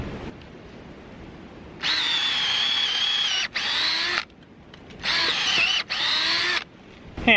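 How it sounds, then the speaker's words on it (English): A power drill bores through material while securing an off-grid water tower, a loud whining motor in two long bursts with short stops and a pause between them, alone without talk. "So I'm just going to drill through here."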